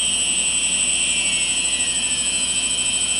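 Quadcopter motors spinning at half throttle during a maiden flight attempt give a steady, loud high-pitched whine with several tonal layers, sustained without a break and with no talk.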